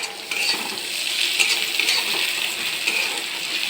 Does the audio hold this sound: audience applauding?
no